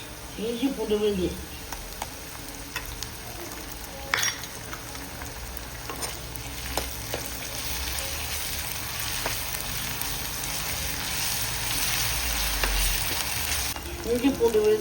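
Ginger garlic paste frying in a pan with curry leaves and chopped onion, a steady soft sizzle throughout, with someone talking briefly at the start and end.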